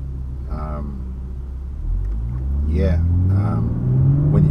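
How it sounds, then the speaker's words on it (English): A 2020 Toyota GR Supra 3.0 V6 engine rumbles low and steady, then its revs climb and hold higher toward the end, with brief voices breaking in over it. "Obviously you can hear the engine more"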